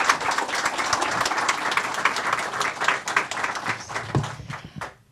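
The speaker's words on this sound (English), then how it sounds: "let's give our student artists a round of applause" Audience applause for student artists at an elementary school arts in education week celebration, a steady round of clapping from a seated crowd lasting about five seconds before tapering off.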